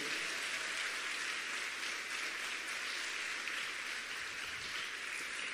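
A church congregation applauds in a dense, steady wash of clapping that holds at an even level from start to end, with no voices.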